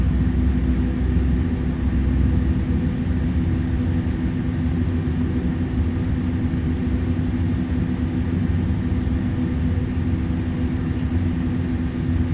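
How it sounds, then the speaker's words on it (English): Continuous low engine drone of an iniBuilds Airbus A300 cargo jet in Microsoft Flight Simulator 2024, a steady heavy hum with a faint tonal whine, unchanging and without any talk. "Those big meaty engines"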